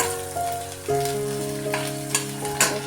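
Ginger garlic paste frying with onions in a pan, a loud continuous sizzle with a few stirring clatters and bursts, up close and without speech.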